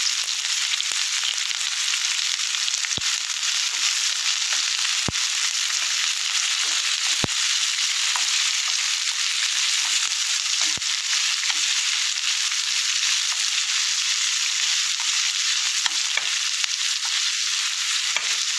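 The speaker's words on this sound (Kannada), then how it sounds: "ಈರುಳ್ಳಿ ಚೆನ್ನಾಗಿ ಫ್ರೈ ಆಗಿದೆ" Onions fry in a pan with a steady, dense sizzle that runs unbroken throughout, loud and close, with a few sharp pops and crackles scattered through it and no voices.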